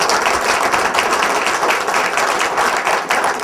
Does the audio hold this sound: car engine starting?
no